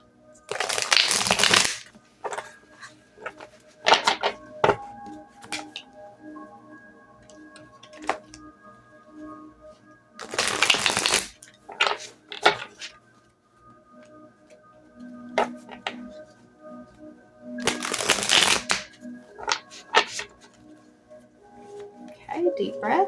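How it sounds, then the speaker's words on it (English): Three bursts of crisp riffling tarot card shuffles, each a second or two long, spaced apart with quieter handling and soft background between them. "I'm going to just shuffle it a few times."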